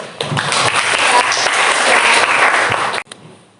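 A classroom audience gives loud, dense applause for two students, Sela and Yeni, during a computer networking lesson. The clapping is sustained and close for about three seconds, then cuts off abruptly, leaving only a faint trailing sound.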